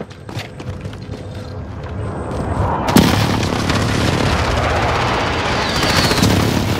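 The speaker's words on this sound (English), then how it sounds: "Friendly position airstrike inbound." Airstrike explosions from the video game Call of Duty: Modern Warfare, a sharp blast followed by a dense, continuous rumble of detonations and gunfire that stays loud throughout.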